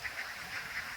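Ducks on a duck farm quack in a steady, continuous stream of overlapping calls, moderately loud and close, with no talking.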